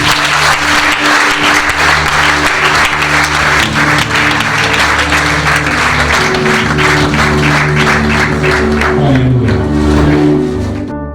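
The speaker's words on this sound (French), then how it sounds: "Acclamons Jésus" Congregation at a church service applauding, heard as sustained, loud, dense clapping with music tones underneath, fading near the end.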